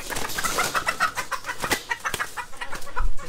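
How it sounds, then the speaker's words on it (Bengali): Roosters and hens at a poultry shop cluck and squawk repeatedly in short irregular bursts, close and loud, with some shuffling in the background. "দুটা মুরগা আছে, একটা মুরগি আছে।"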